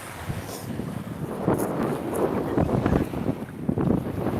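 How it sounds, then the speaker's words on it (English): Gusty wind buffets the microphone, a continuous rumbling roar that swells and surges in bursts, with no voices. "It's windy today, I know. It's probably a bit annoying."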